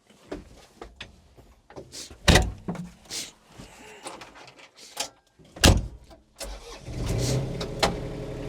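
A Groundhog BH25D zero-tail-swing mini-excavator drives in circles. Its engine rumbles steadily under a series of loud clunks, knocks and thumps from the machine, heard up close with no talking.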